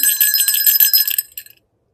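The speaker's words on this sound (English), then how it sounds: "it's a nice Polar Express bell" A small gold-silver toned vintage Polar Express sleigh bell jingles rapidly and brightly up close for over a second, then stops abruptly into silence.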